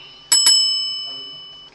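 A notification bell sound effect: two quick bright dings in close succession, clear and loud, ringing out and slowly fading over about a second.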